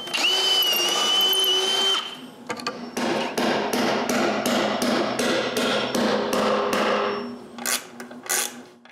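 Bolts are driven on a homemade snowmobile sled hitch in a workshop, first a steady whining power-tool run, then a rapid rhythmic series of loud impact-like bursts, close and alone without talk.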